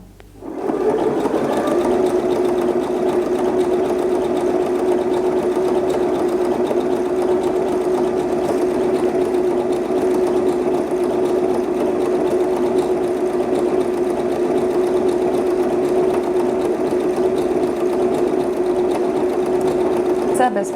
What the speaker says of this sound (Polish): Dzięki stopce overlockowej można szyć przy krawędzi materiału.